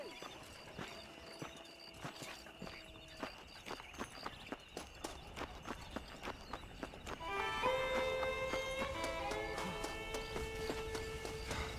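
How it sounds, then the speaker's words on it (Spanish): A horse's hooves clip-clop in the Western video game Red Dead Redemption, a steady series of sharp hoofbeats that quickens into a faster gait partway through, close and clear over a soft in-game background. "Eso es verdad que será nuestro caballo"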